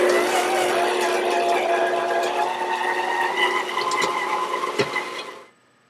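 An electric mixer beats eggs into chocolate chip cookie dough, a loud continuous whirring drone with faint scraping, running steadily for about five seconds before switching off.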